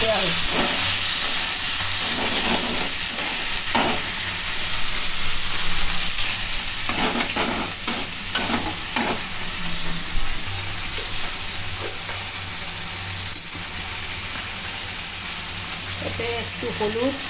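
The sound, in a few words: tomato, ginger and green chilli paste frying in pan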